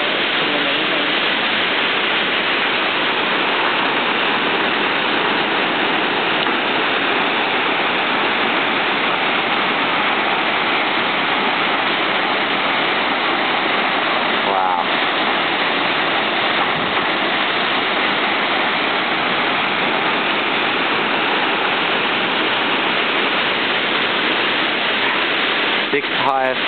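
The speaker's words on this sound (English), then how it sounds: "Ah, Feather Falls. A lot of water." Feather Falls in California roars as a steady, loud wash of falling water, a dense continuous rush that never lets up across the whole stretch.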